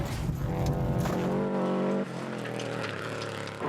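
A car speeds round a blind bend on a road, its engine whining loudly and shifting pitch with a brief tyre squeal, fast and close throughout.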